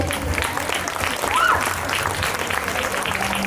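An audience at a Ganesh Chaturthi stage event claps in a steady, dense burst of applause lasting throughout, with a voice speaking over the crowd noise.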